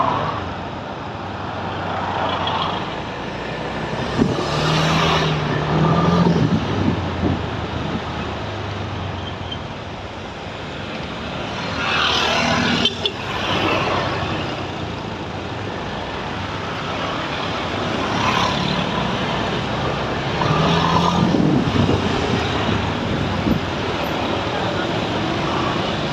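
Congested city road traffic on Jalan Riau in Pekanbaru in the late afternoon, a steady wash of engine and tyre noise with several louder vehicles passing by, while a person talks over it.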